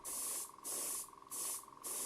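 Airbrush spraying heavily thinned matte black paint onto an RC Douglas DC3 Dakota model, three close hissing bursts with brief pauses between them, a steady faint tone running underneath.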